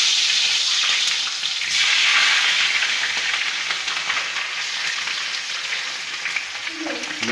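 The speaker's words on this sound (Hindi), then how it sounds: "अब हमारा ऑयल गर्म हो रहा है, हम इसमें चिकन डाल के इसको फ्राई कर लेंगे" Chicken fries in hot oil for charsi karahi, producing a loud, continuous hissing sizzle that holds steady throughout, close and without talk.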